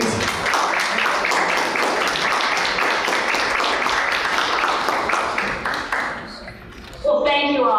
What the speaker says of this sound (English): So just a big round of applause for Dr.